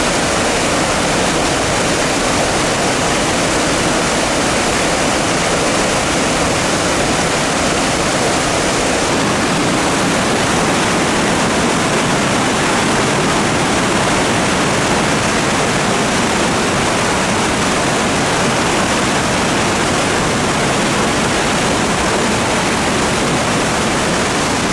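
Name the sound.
River Blavet water rushing after days of rain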